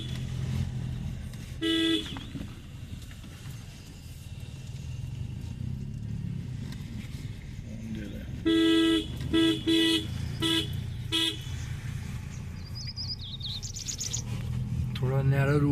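Several short car horn toots sound over steady engine and road noise on a narrow route near Lansdowne, first a single honk, then a quick cluster of beeps.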